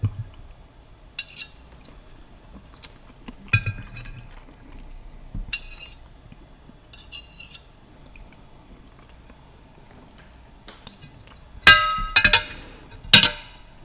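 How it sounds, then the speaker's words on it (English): Utensil scraping omelet leftovers off a plate, close and sparse: a few short scrapes and clinks spaced through quiet, ending with a louder cluster of scrapes. "Right now I'm scraping the plate to collect all of the parts left behind on the plate"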